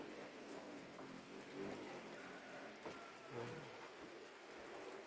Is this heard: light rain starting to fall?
yes